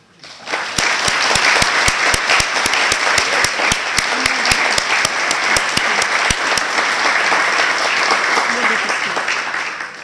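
Audience at a community awards night gives a loud, sustained round of applause for an absent education honoree, with sharp individual claps standing out above the dense crowd sound.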